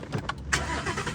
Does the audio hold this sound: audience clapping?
no